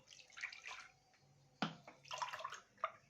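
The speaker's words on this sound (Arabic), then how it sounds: "وبعدين هنحط كوبايتين لبن" Milk poured from a cup into a mixing bowl in a kitchen, a splashing liquid stream in two close bursts with a sharp clink of the cup between them.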